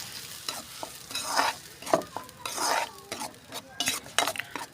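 Tomato and onion paste being stirred in a frying pan for mushroom gravy: loud, irregular scraping strokes and metal clinks over a continuous close sizzle.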